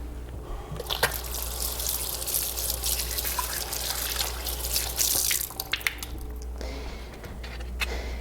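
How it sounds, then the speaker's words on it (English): Food rinsed under a running kitchen tap before cooking a vegan cabbage and sausage stew, with a steady stream of water splashing and spattering close by and a few sharp drips and knocks. "I'm just gonna rinse this off."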